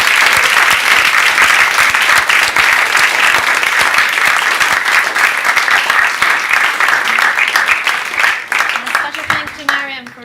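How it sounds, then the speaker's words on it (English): Audience at a peace talks event gives a big round of applause for the team and volunteers, loud dense clapping that holds steady, then tapers near the end as a voice begins speaking. "So can we have a big round of applause?"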